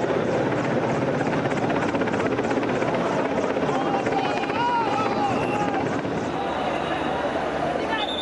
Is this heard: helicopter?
yes